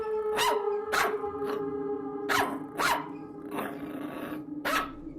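A small dog barks in sharp, evenly spaced yaps, about six in a row, loud and close over a steady low drone that adds an eerie backdrop for a horror tale.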